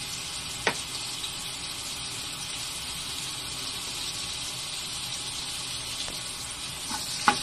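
Butter or Star margarine sizzling in a pan while cooking kare kare, a steady hissing fry close by with a couple of small clicks, no talking.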